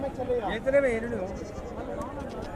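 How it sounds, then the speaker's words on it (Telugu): Goat kids about three to four months old bleat with wavering calls at the weekly Saturday livestock market in Dubbaka, while people talk nearby over steady crowd noise. "మేకపోతు పిల్లలు అండి త్రీ ఫోర్ మంత్స్ ఉంటాయి వయసు"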